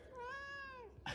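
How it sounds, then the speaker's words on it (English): A pet cat gives a single drawn-out, clear meow close by, rising and then falling in pitch, followed by a brief noisy rustle at the end, with no speech. "I heard him meow."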